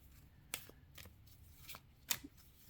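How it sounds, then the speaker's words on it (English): Tarot cards being block shuffled, a few soft riffling and slapping bursts spaced out over a couple of seconds, quiet and close with no talking. "When you block shuffle like this, that's sometimes what happens."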